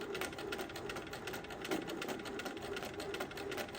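A domestic sewing machine runs steadily during free-motion quilting, a fast, even mechanical stitching chatter that stays close and moderately quiet throughout.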